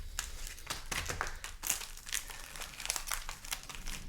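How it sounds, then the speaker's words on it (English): Steady papery riffling and crinkling of Dominaria Remastered trading cards being shuffled during a box break, continuous and close, with no speech. "I'm going to give them a good shuffle."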